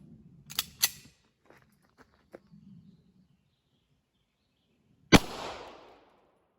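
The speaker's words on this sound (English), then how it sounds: "We just fired the 9mm at our watermelon." A Norinco 1911-A1 9mm pistol fires a single loud, sharp shot at a watermelon outdoors. The report rings off with a short decaying tail and follows a few faint clicks and soft handling sounds.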